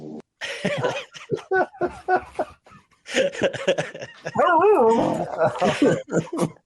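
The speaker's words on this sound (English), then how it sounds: "A dog that needs some attention, but we're going to work on that." A dog barks in short yips and lets out rising, wavering whimpers, close and loud, in bursts separated by brief pauses.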